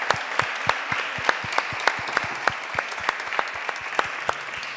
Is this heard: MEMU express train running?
no